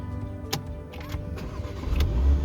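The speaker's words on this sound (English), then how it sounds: "we're gonna start up the car" A 2019 Porsche Macan engine cranks and catches with a brief starter whir and clicks, then settles into a low, steady idle rumble that builds slightly at the end.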